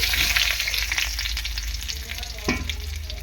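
Potatoes hit hot oil with cinnamon, cardamom and cloves for a mutton-and-potato curry, giving a loud, steady close-up sizzle with a brief louder burst of spitting near the end and no talking.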